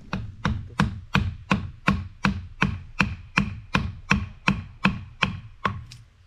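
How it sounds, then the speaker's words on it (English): Hand chiseling into a dry, hard tree log being shaped into a dumbbell: about sixteen sharp, evenly spaced knocks of mallet on chisel in steady rhythm, close and alone with no talk. "go in with the chisel now and just whack off all of this"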